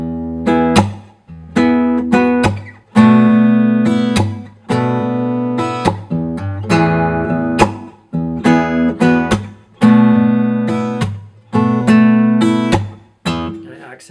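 An acoustic guitar works slowly through a fingerpicked part, with alternating bass notes, an open E, and a steady sequence of plucked notes and chords in separate phrases, close and clear with no voices.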